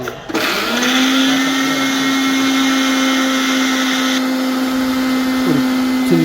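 A mixer grinder runs steadily and loudly, grinding soaked ingredients into a smooth paste, its motor whine holding an even drone for about six seconds with a slight shift near the end.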